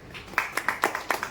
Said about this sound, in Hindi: बहुत बढ़िया, इनके लिए ताली हो जाए